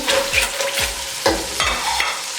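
Restaurant-style chicken 65 and green chilies fry in a pan, loud and close, with a constant sizzle broken by several firm scraping strokes of a spatula stirring the mix.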